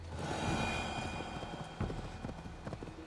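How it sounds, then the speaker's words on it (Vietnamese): A horse gallops in Assassin's Creed Valhalla, rapid hoof clip-clops beating under light game ambience. A brief louder thump lands partway through, and the hoofbeats carry on at a quiet level. "Chạy khá nhanh, ngựa trong game là chạy nhanh lắm."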